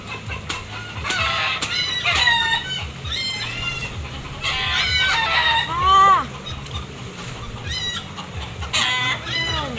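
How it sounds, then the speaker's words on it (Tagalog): Chickens at a rice field cluck and squawk in agitation, with repeated calls rising in close bursts and a few crowing-like cries, over a low rustling background. "Nag-ingay na yung mga manok."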